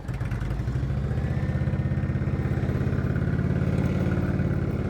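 A motorcycle engine held at elevated revs during slow-speed riding practice, a steady, close, continuous drone with a fast pulsing throb that stays loud and even throughout, with no talking.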